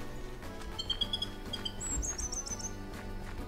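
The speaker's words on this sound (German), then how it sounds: "Vogel, hör auf." Bird chirps in Minecraft: a few high, thin tweeting calls, some in quick repeated bursts, over a steady low game background.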